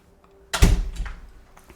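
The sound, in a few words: toilet room door closing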